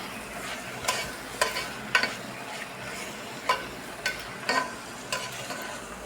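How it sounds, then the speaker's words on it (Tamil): Ripe tomatoes with ginger garlic paste sauté in a pan for vegetable biryani. A gentle sizzle runs under repeated spoon scrapes and taps at an uneven pace, close by, with no talking. "தக்காளி இந்த அளவுக்கு வதங்கட்டும்."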